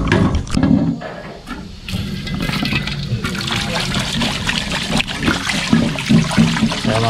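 Running water splashes and gushes steadily as a discarded item found while dumpster diving in Taiwan is rinsed under a tap, close up and continuous, with a voice talking over it at times.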